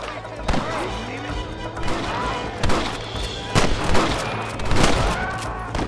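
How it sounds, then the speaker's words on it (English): Gunfire in Red Dead Redemption, with sharp, loud shots cracking at irregular intervals over a busy game soundscape. "Stop shooting at me!"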